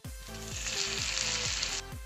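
Potatoes sizzle steadily in hot mustard oil in a pan, a close, continuous frying hiss that lasts throughout with no voices.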